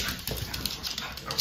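Dogs waiting to be fed leftover macaroni make short, faint whimpers and whines in a noisy room, with brief yips over a steady background hiss and no clear talking.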